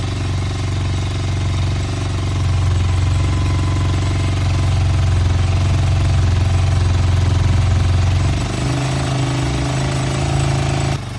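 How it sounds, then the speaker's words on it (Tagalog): A Honda TMX motorcycle engine idles on choke while warming up, a steady loud throbbing putter that runs unbroken and shifts slightly in pitch near the end. "naka-choke, papainitin mo lang hanggang sa maginit yung makina."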